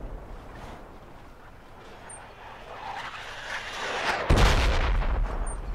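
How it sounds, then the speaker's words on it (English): Enemy mortar fire in a Project Reality battle, a low rumbling background swelling gradually and then a heavy blast near the end, followed by sustained roaring noise. "The enemy mortars are on the marker"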